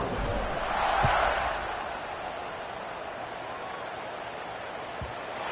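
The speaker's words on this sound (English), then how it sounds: "this crowd now ready to get behind them" Broad, steady roar of a stadium crowd in a college football video game at kickoff, swelling briefly near the start and then holding as a continuous wash of cheering.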